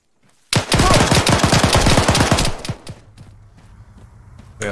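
A rapid burst of heavy machine gun fire in the video game Squad (Frontline RHS), loud and close, with about two seconds of continuous shots, followed by scattered distant shots and a late crack.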